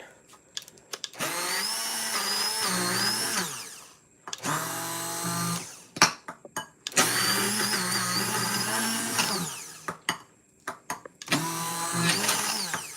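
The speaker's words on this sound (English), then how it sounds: "So we just take our hand blender and we're just going to mix it." A hand blender whirs loudly while mixing buttercream, running in four long bursts separated by short pauses, its motor pitch shifting slightly as it churns the frosting.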